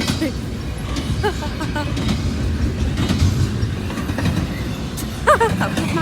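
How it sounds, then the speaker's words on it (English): The CN 111 priority intermodal freight train rolls past at Matsqui, British Columbia, with a continuous loud rumble of wheels on rail, rhythmic clacking and several sharp wheel squeals near the end. "So that's a priority train."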